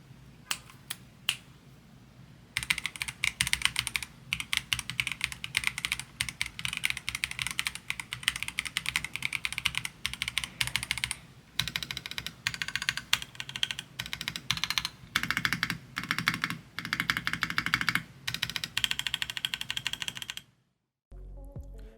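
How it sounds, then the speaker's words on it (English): Close, rapid typing on a Redragon K649 Elf Pro transparent gasket-mounted keyboard with quiet linear switches, a dense run of soft, muted key clicks after a few sparse presses, briefly pausing midway and stopping near the end. "Here's a sound test to give you an idea"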